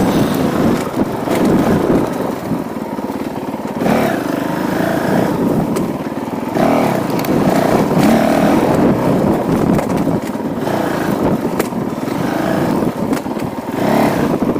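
A Honda CRF450L dirt bike climbing a rocky, rooty uphill trail, its engine droning loud and steady up close under heavy wind buffeting, with throttle surges rising and falling.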